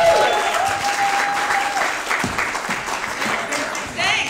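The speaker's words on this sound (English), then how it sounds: "So make some noise for Zan. Give it up for Zan" Loud applause from a New York comedy audience as a comedian is introduced, steady clapping throughout with some cheering mixed in.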